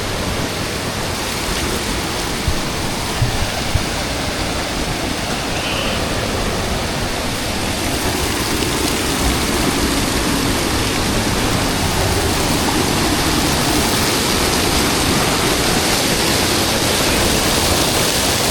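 Heavy water pouring down a staircase in the jungle, a steady, dense rushing roar that holds loud and unbroken throughout.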